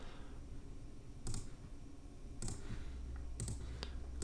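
A computer mouse clicks softly a few times, sharp isolated taps over a faint room hum, close and quiet.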